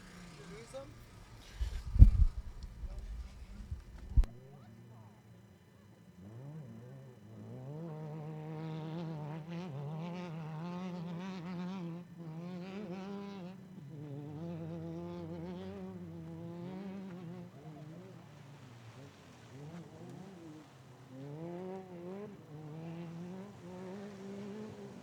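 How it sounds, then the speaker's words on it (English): Race cars coming into the infield at a racing event, a steady layered engine drone with shifting pitches that holds for about twenty seconds after a few loud bumps at the start. "These 10 cars are coming in"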